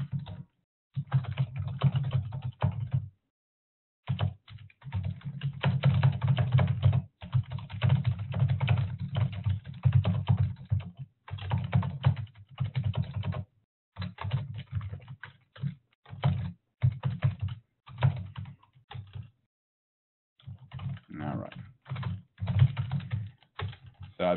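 Typing on a computer keyboard in bursts of rapid, close keystrokes separated by short pauses, with no talking.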